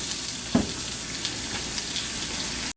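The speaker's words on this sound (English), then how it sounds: "We'll get back to you when we've got this skillet and the meat a little better done." Meat sizzles and fries steadily in a hot skillet, a continuous close crackle with one brief louder clatter near the start, no talking over it.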